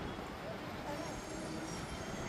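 A Pune metro train passes on its rails, heard as a faint, steady rolling rush with no clear breaks, somewhat distant and low in level.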